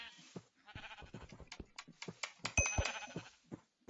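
Sheep bleat repeatedly in the blocky Minecraft-style game Hungry World, a series of short, fairly loud game bleats close together, with a couple of brief chime-like dings mixed in and no talking.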